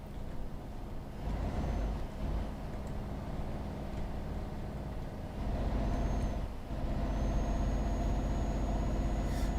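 A heavy truck in Euro Truck Simulator 2 brakes with a steady engine rumble and a hiss of air brakes, loud and continuous throughout.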